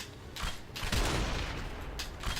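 Bursts of gunfire in the Hellboy The Science of Evil video game rattle in dense, loud volleys that roll continuously through the moment, with brief peaks standing out above the din.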